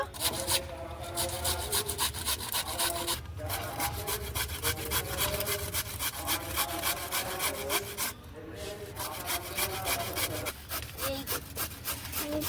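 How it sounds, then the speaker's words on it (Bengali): A large potato is grated by hand, giving a continuous, rhythmic rasping scrape of rapid strokes, close and steady throughout with only brief breaks. "আলুটা ভালো করে গ্রেট করে নেব"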